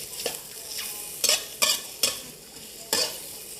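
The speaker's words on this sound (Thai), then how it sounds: "เห็ดหอมแช่น้ำแล้วมาหั่น ผัดให้เห็ดหอม หอมเลย" Sliced soaked shiitake mushrooms stir-fried in a pan, with several sharp scraping stir strokes over a soft, steady sizzle, close and alone.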